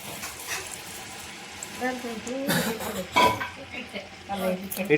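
Sukkina unde sweet balls dipped in batter are dropped into hot oil to fry, giving soft sizzling and stirring with a few clinks of utensils, quiet and close, while people talk over it.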